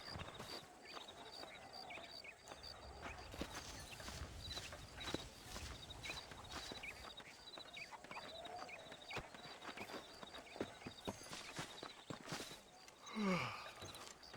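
Horse hooves clip-clopping at a walk in the Red Dead Redemption video game, faint steady rhythmic steps over quiet outdoor ambience, no talking.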